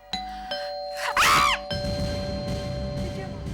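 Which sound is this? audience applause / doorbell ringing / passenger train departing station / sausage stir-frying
doorbell ringing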